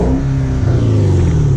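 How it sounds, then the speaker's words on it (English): Loud, close rev of a 2013 Hyundai Genesis 5.0 R-Spec V8, a deep engine growl that holds and then eases slightly in pitch over a short burst, with no voices. "I'm gonna give you a little rev here."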